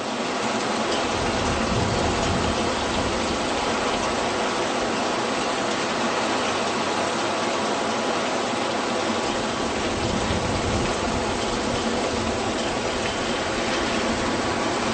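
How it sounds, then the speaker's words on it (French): Steady, dense downpour of heavy rain in Ouagadougou, Burkina Faso, a constant broadband hiss with no pauses, close and loud throughout. "il pleut"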